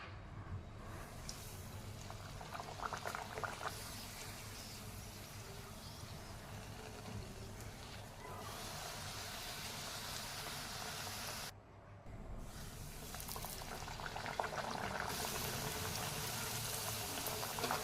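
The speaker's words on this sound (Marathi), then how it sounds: "आता पुऱ्या आपण तेलामध्ये तळून घेणार आहोत" Pumpkin gharge puris deep-fry in hot oil, giving a steady, dense bubbling sizzle that continues almost unbroken, apart from one brief dip.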